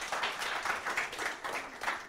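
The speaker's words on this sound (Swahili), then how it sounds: "Wala tumpige makofi." Audience applause at a Kiswahili arts event from a school, a steady wash of clapping with rising and falling bursts over about two seconds, fairly faint and distant.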